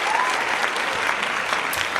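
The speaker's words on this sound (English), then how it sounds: "they deserve a Johnny Wilkinson round of applause" Audience at a critical care ultrasound conference session in Northampton gives a steady, sustained round of clapping, a dense even wash of applause throughout.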